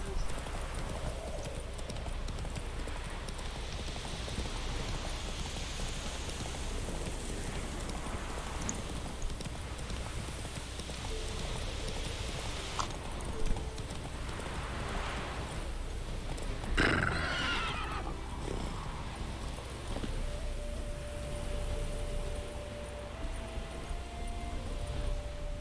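A horse in Witcher 3 gallops with rapid rhythmic hoofbeats, whinnying now and then, over game music and ambience while someone talks intermittently.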